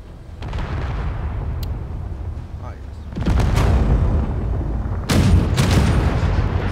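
Ship-mounted guns firing in Space Engineers during a standoff between armed craft, heavy booming blasts building in waves over a continuous rumble, with a voice speaking faintly underneath.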